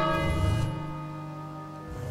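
A single bell tolls in the King's Quest video game, one struck note ringing out with a long, sustained metallic hum that slowly decays.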